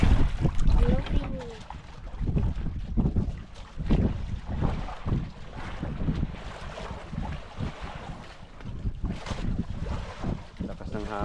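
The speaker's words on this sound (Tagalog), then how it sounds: "Lakas ng hangin." Gusty wind roars and buffets the microphone, with low rumbling and water-like wash throughout, while a person talks intermittently over it.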